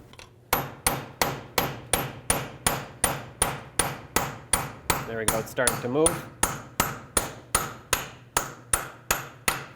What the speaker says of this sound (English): let's get a punch and a hammer. Punch right in the middle.